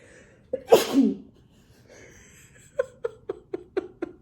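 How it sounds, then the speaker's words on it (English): One loud, close sneeze with a sharp intake and forceful burst, followed after a pause by a series of quick rhythmic clicks. "there's a sneeze coming"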